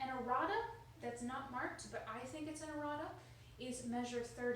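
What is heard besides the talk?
No everyday noises stand out.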